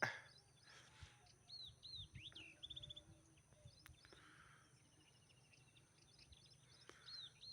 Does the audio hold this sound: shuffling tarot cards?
no